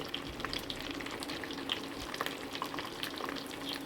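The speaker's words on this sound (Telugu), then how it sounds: "రెండు స్పూన్లు అల్లం వెల్లుల్లి పేస్ట్ వేస్తాం పచ్చివాసన పోయే వరకు వేయించుకోవాలి" Ginger garlic paste frying in a pan with onions, chillies and curry leaves for a coconut rice and chicken curry meal, giving a steady dense sizzle with light stirring clicks throughout.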